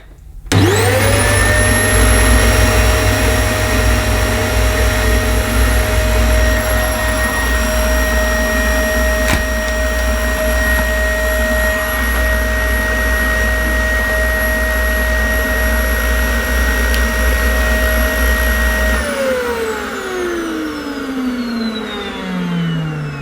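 A Dyson DC25 vacuum cleaner spins up and runs with a loud, steady high whine that sounds clogged, then winds down with a falling pitch at the end.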